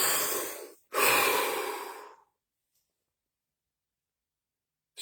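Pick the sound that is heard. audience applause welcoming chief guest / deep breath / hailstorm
deep breath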